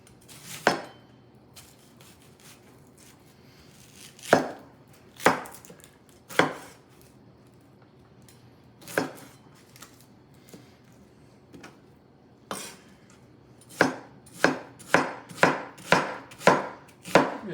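An onion roughly chopped with a knife on a cutting board, sharp close thuds, a few spaced single cuts followed by a quick run of about eight evenly paced chops, with no talking.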